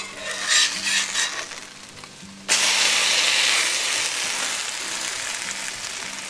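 French toast sizzles in a vintage Lodge cast iron skillet, a soft frying hiss that jumps to a loud, close, steady sizzle as a fresh slice is flipped onto the hot surface and then slowly eases off.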